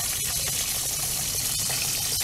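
Water from a hose fills a water softener resin vessel, a steady loud rushing and gurgling flow that carries on without a break, close by and alone.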